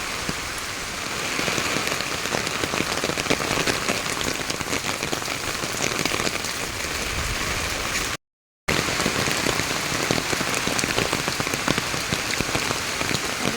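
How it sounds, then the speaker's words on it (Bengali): Steady, heavy storm rain pours down continuously in a village, dense drops pattering on surfaces, with a brief dropout partway through. "দেখো কীভাবে ঝড় আর বৃষ্টি হচ্ছে আমাদের গ্রামে"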